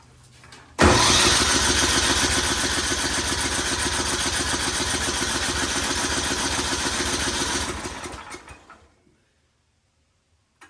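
An Ariens 1130LET track machine, refuelled with fresh fuel and with the choke on, cranks on its starter in a fast, steady rhythm for about seven seconds without catching, then falls silent. It is loud and close, with no talking.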